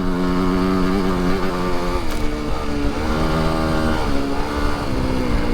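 A 300 two-stroke dirt bike is ridden with a steady, buzzing engine drone that holds a high, raspy pitch and shifts slightly as the throttle changes, loud and close throughout.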